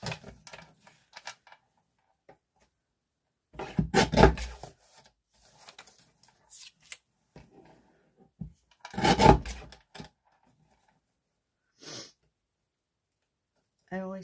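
A paper trimmer cuts down card sentiments in two short rasping passes, close and fairly loud, separated by quiet stretches with faint handling noises.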